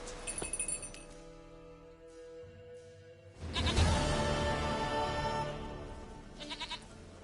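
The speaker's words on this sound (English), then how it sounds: "Goat of mine, dearest," A goat bleats in The Witcher 3, several short nasal calls near the start, followed by a louder, denser stretch of game ambience with clinking tones and a few more faint bleats at the end.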